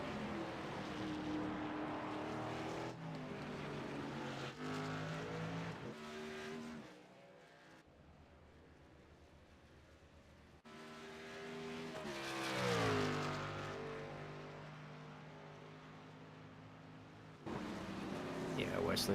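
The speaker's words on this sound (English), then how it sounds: "the handling starting to go away on the Stephen Thomas truck" Pulling trucks race at Road America, their engines roaring in several choppy bursts with droning tones and rising, sweeping pitch as they accelerate, fading to a brief lull before the noise returns loudly.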